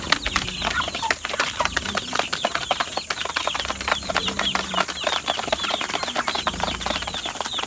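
Rhode Island Red heritage chickens, just let out of their cage onto the ground, cluck and chatter constantly at close range over a dense bed of rustling, scratching and wing flaps.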